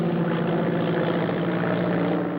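A propeller airplane engine drones steadily in flight. The dense, unbroken roar stays loud and close for the whole stretch, with no voices.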